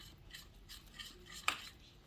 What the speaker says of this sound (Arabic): انزل بحبه ميه واقلب كده اهو